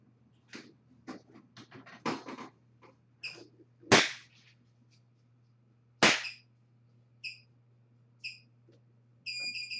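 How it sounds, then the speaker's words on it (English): Sharp hand claps ring out indoors, two loud, close slaps standing out among quieter taps and clicks, followed by short high electronic beeps and a constant low mains hum. "I slapped my hands together, which she does not like the sound of"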